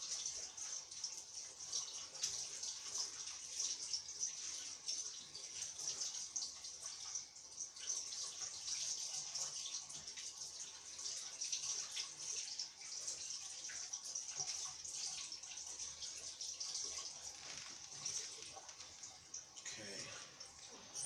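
Tap water running steadily into a sink while someone washes their hands, a soft continuous hiss at low level, with brief splashy movement near the end.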